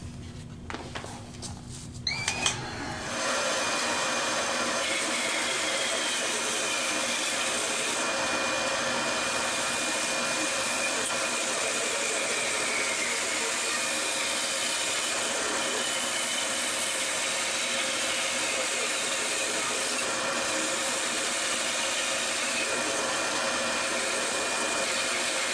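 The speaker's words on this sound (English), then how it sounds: "I'm going to have the shop vac going so I'm sucking the dust away" A shop vacuum running in a woodworking shop while wood is cut on a bandsaw, giving a steady, loud whooshing drone that starts after a few seconds of clatter and holds unbroken to the end.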